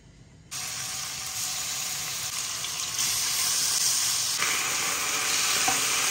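Seasoned chicken drops into hot oil in a pan and bursts into a loud, steady sizzle that grows fiercer partway through, crackling continuously up close.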